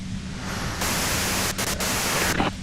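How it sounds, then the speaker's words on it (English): Radio white noise static from the video game Disco Elysium hisses steadily and fairly loudly, briefly dropping out and shifting in texture a few times as the signal is tuned. "you can do it through the white noise"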